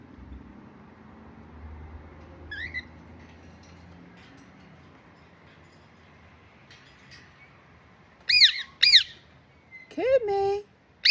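A pet bird, a kept cage bird, gives a few sharp squawks and chirps near the end, after a long stretch of quiet room noise with a faint earlier call.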